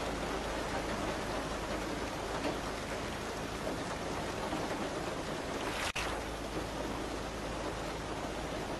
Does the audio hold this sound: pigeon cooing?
no